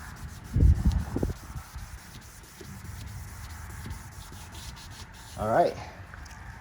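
Hand sanding of a plastic headlight lens with 800 grit sandpaper gives a steady, soft rubbing scrape throughout, with a louder scuff near the start and another burst of activity near the end.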